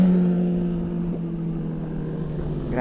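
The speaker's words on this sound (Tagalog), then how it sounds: "Grabe ang lalakas ng mga motor nila." Loud motorcycle engines droning close by on a flat road, a steady harmonic hum with a brief throttle blip midway, no voices.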